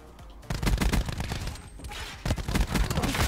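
Rapid automatic gunfire from a Rampart 17 rifle shooting an enemy in Black Ops 4, two dense bursts of loud close shots separated by a short pause.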